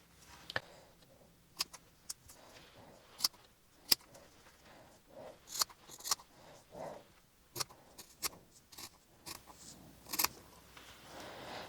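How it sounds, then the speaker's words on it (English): Quiet, repeated snipping clicks at an uneven pace, close and soft, with faint rustling between the cuts, as scissors slide under and trim tufted yarn. "You sort of stick your scissors in underneath, you slide it."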